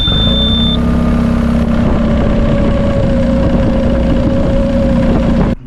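A boat engine idles steadily at a constant pitch for several seconds, loud and close, running alone without any voices over it.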